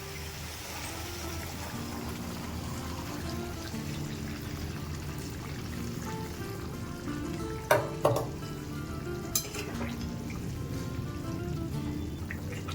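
Hot water poured into a simmering cauliflower and potato curry cooked in milk, giving a steady bubbling hiss with a few brief clinks partway through.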